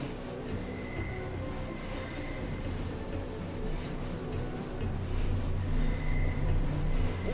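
Rumbling train ambience in the video game Deus Ex with the GMDX mod, a steady low rolling drone with faint high metallic whines, continuous and fairly loud with no talking.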